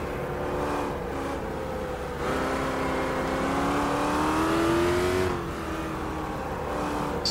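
Sim racing cars at Silverstone in a GT race video game, with engines droning loud and continuous, pitch rising under acceleration, shifting gears, and a steady whine of passing traffic throughout.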